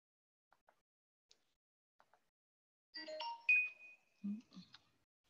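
A mobile phone rings during a talk, a short electronic melody of bright tones preceded by faint soft clicks, heard fairly close in an otherwise quiet room.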